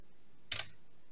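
A single quick Ctrl+V keystroke, or a pair, on a computer keyboard in a frontend programming lecture, a short crisp click alone in a quiet room.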